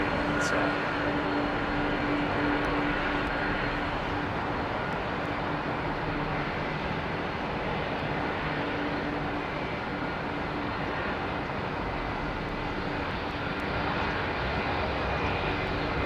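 A Delta airliner at London Heathrow Airport, producing a steady, loud, broadband jet engine roar that holds constant throughout with no clear rise or fade.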